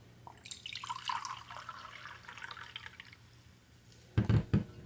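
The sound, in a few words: filling a clay pot with liquid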